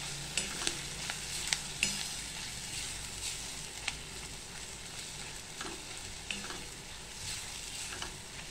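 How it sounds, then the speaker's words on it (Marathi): Garam masala and pav bhaji masala powders fry in oil for a potato kurma, giving a continuous close sizzle broken by sharp spoon clicks and scrapes against the pan as the spices are stirred. "आता आपल्याला हे सगळे मसाले चांगले परतून घ्यायचे तेलामध्ये।"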